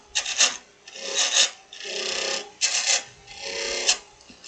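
A spindle gouge cuts a wooden snowman spinning on a wood lathe, producing four sustained raspy scraping passes with short gaps between, close and fairly loud.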